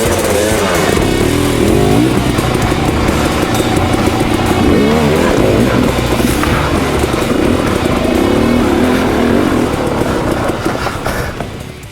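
A fuel-injected KTM 300X CW TPI two-stroke dirt bike engine runs loud and steady for the whole stretch, revving with a constant, raspy drone and no pauses.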